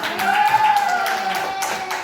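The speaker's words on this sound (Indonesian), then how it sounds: "Tepuk tangan dulu untuk semua." Pupils in a classroom clap their hands together in a dense, steady patter of overlapping claps that runs the whole time, with a voice faintly audible underneath.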